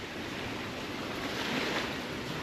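Sea waves wash steadily onto Smallmouth Sands beach in Dorset as the tide goes out, a continuous broadband surf roar at moderate distance, with some wind buffeting and no voices.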